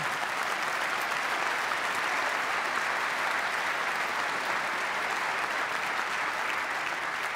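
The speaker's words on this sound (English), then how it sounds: "you can clap for that" A large audience applauds at a governor's State of the State address, a continuous dense wash of clapping holding an even level throughout.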